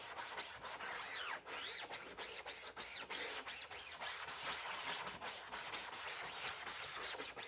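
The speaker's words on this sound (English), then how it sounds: "Let me make sure that I scrub it real good." A sponge with Dawn dish soap scrubs a window screen in steady, rapid back-and-forth strokes, a continuous close rubbing and swishing with no voices.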